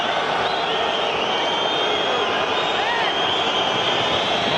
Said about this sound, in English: Not sure why the crowd is whistling.